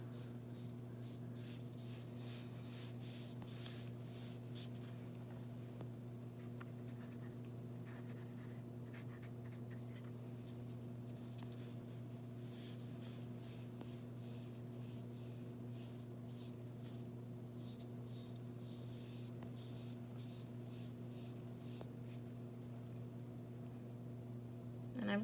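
Colored pencil or marker strokes scratch across paper while a rainbow is colored for paper quilling, with quick repeated rubbing bursts over a steady low background hum, no voices.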